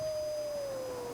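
A single long, steady howl slowly dips in pitch, sounding somewhat distant against a faint low background rumble.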